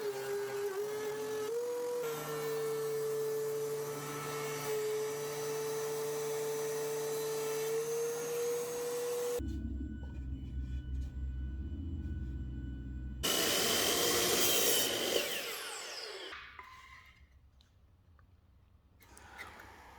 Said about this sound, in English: I'm running them through my planer a few times